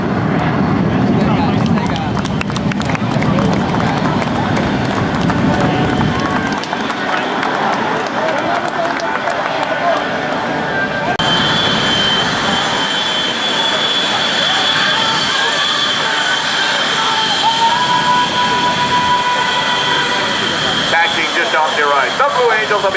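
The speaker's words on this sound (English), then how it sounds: "The Blue Angels will be turning into the parking area momentarily." US Navy Blue Angels jets taxiing to a parking area at the 2009 Rhode Island airshow, a loud steady jet engine roar with a high whine that rises partway through, mixed with crowd noise and an announcer speaking over it.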